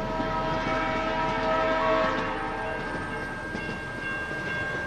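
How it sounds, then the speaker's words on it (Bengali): A train passes close by with a continuous heavy rumble and a sustained tonal horn or whistle over it, steady and loud from start to finish. "ট্রেনের শব্দে আমার চিন্তাভাবনা কোথায় যেন হারিয়ে যায়।"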